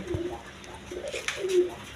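Breeding pigeons coo softly in low throaty bursts, several calls overlapping close by with a faint chirp, no voices present.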